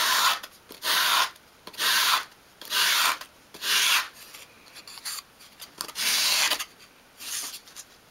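Repeated sanding sweeps along the edges of a small 1/12 scale wooden kitchen island piece for a dolls house, about eight steady rasping strokes in an even rhythm, close and clear, with no talking.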